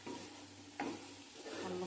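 Prawns from the Godavari region cooking in a spicy curry in a pan, sizzling steadily as a spoon scrapes and stirs, with one sharp scrape near the middle and continuous frying hiss throughout, close and fairly quiet.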